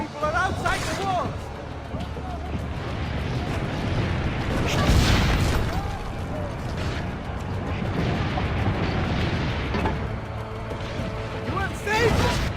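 Cannon fire and battle noise from Assassin's Creed Brotherhood, heavy booms and crashes rolling through a busy mix, with a big blast near the middle and shouting voices throughout.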